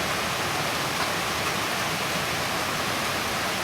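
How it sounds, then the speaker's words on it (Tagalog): Steady, close broadband rush of a creek flowing right beside a house at night, a continuous even wash of water with no breaks or voices. "Itong sapa actually, tabing bahay ko lang yan."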